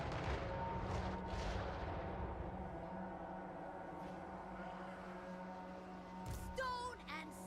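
Artillery fire in the Total War Warhammer 3 video game: a distant, muffled battlefield rumble with low booming shots, ending in a sharper burst of clashing noise.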